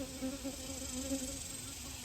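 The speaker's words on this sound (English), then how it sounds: "I left some Swarm Commander on the Jeep hood. Guess I got a tiny swarm." A tiny swarm of honey bees hums on a Jeep hood, a continuous close buzzing drone with wingbeat tones wavering slightly in pitch, steady and alone without talk.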